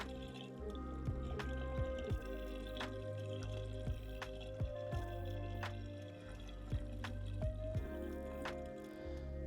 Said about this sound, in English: The first 30 ounces is going in.